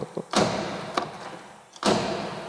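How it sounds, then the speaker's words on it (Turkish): Car door of a Tofaş Şahin shuts with two solid thuds about a second and a half apart, close and fairly loud, with small clicks before them. "Bakın kapı sesi falan güzel."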